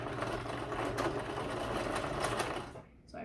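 A sewing machine forward-stitching through t-shirt fabric makes a steady, close mechanical whir that stops abruptly near the end.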